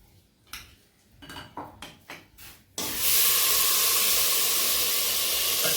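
Ghee goes into a pressure cooker holding wheat dalia. A few clinks of a spoon against the pot come first, then a loud, sustained sizzling hiss that lasts to the end.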